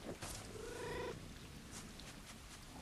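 A cat purrs in a video game, a soft rolling purr rising briefly near the start over a steady background hiss, fairly faint and with no talk.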